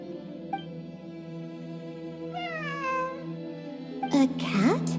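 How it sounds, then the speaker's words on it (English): A cat meows in the Genshin Impact game, several rising and falling mews standing clear over a steady musical background, with a louder, sharper meow near the end. "It really is a cat."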